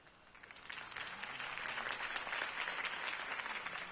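A crowd in a Batman video game claps and applauds, swelling from a scattered start into a sustained, even round of clapping that continues to the end.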